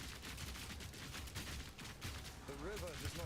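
Rapid crackling bursts of Herald of Ice explosions in Path of Exile, fired during fast Delirium map farming with a freezing Rapid Shot Witch Hunter build, form a dense, continuous barrage under game effects, with a brief tonal chime near the end.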